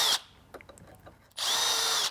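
A power drill drives small wing screws into a pocket hole jig during a sewing table build, two loud whirring bursts at the start and end with quieter tool handling between.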